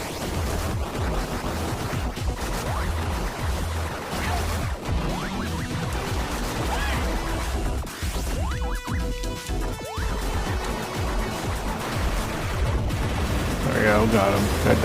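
Gunfire and explosions from a video game blast loudly and constantly in dense bursts, mixed with game music and effects.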